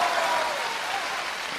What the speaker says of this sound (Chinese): 雷鸣般的掌声。